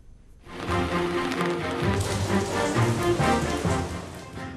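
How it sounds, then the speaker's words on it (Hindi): Heavy monsoon rain in the Nainital hills pours down steadily after a brief quiet start, giving a dense, loud patter with close, irregular drop taps and no speech. "तो जहाँ एक तरफ ये बारिश मुसीबत बढ़ा रही है"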